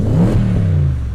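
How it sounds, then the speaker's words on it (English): A 2003 Audi RS6 with a turbocharged engine gives a short, muffled rev, a low burst of engine note that rises and settles into a steady idle hum. "let's give her a couple revs."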